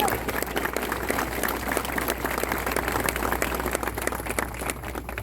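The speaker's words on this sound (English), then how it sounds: "Give yourselves a round of applause." Dense, continuous applause from the audience at the 2015 opening ceremony of the Fury 325 roller coaster at Carowinds, loud and sustained for several seconds with faint voices mixed in.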